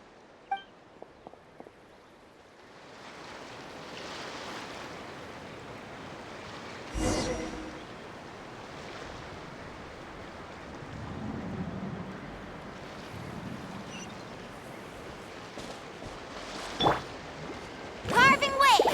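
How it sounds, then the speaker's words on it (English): A Sharky surfboard carves across ocean waves in Genshin Impact, a steady rush of water and wind with sharper splashing bursts near the middle and a cluster of bright splashes at the end. "Carving waves!"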